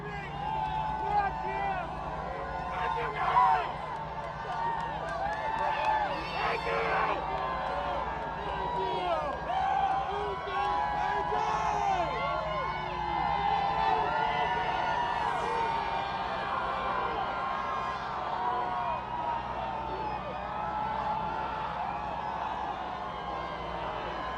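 Large crowd cheering and whooping along a parade route celebrating Michigan's college football national championship, a dense continuous roar of voices with shouts rising above it, people talking nearby.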